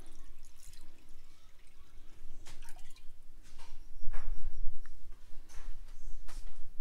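Water trickles and splashes as it is poured into a reptile's water dish indoors, a series of irregular drips and splashes that grow louder and busier toward the end, close up.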